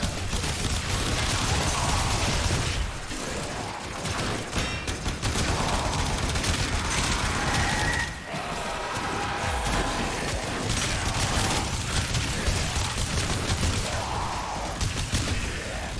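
Dense, continuous gunfire from the Incarnon Boltor Prime in Warframe, rapid bursts and crashing impacts mixed with game effects, loud and unbroken throughout.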